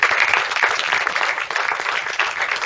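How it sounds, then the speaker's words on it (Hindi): An audience at a stage event claps and applauds continuously, a dense steady wash of many hands with no voices on top. "इनके लिए तालियां होनी चाहिए।"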